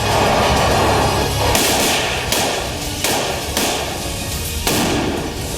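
Heavy booming blasts of artillery fire during a ceasefire violation on the India-Pakistan border ring out at regular intervals, four or five in a row, over a constant loud background rumble.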